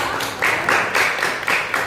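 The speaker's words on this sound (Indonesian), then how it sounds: "berikan tepuk tangan untuk kelompok 2" A classroom audience claps for a student group after its presentation, a steady wash of mixed hand claps rising and falling in short swells over two seconds.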